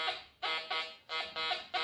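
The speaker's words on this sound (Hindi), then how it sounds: "देखो ये आयरन है, आयरन का अलग भी आवाज अलग आता है, बीप उसका।" Metal detector sweeping over iron, giving a harsh buzzing beep that pulses in repeated bursts with short gaps, close and fairly loud with no talk.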